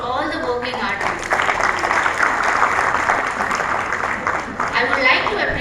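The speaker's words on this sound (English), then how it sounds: "Please put a round of applause for all the working artists" An audience claps for working artists at a community celebration, a steady wash of applause filling the hall throughout while voices talk over it at the start and end.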